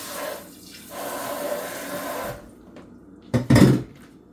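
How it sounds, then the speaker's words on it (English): Buttermilk pours into a separate bowl in a brief, close, liquid glug near the end, after a low background of kitchen handling noise. "1 cup of buttermilk, add it to a separate bowl."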